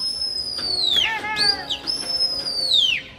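A racing pigeon, a Hyderabadi bird kept for pigeon flying in Delhi, takes off with a short burst of wing flaps and whistling, rising and fading tones, close and fairly loud with no voices.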